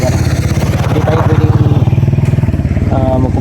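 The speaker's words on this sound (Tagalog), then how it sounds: "Kanina pa tong motor na ito pabalik-balik." A motorcycle engine runs loud and close with a steady pulsing throb, as if passing by in a residential area. It stays prominent throughout and shifts slightly near the end.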